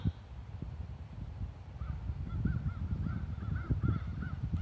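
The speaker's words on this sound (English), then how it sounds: "Oh, there's a whole bunch of crows." Several crows call in short overlapping caws at a distance, over a steady low rumble of background noise.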